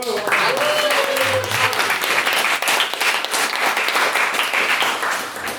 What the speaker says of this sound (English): Round of applause for us all for getting through that.